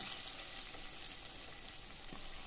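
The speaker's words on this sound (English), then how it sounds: "I let the potato fry nicely." Diced potato frying in a pan of hot oil while cooking fenugreek (methi), a steady, close, even sizzle with soft crackles that runs throughout, no voices.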